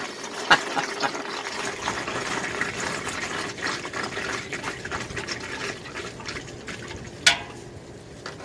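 A steady pouring gurgle of thin, flush-diluted engine oil draining from a 2005 Cadillac Escalade ESV 6.0L into a drain pan, continuous for several seconds, with a couple of sharp knocks.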